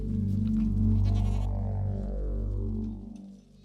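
Goats bleat loudly and close by, long wavering calls overlapping one another for several seconds.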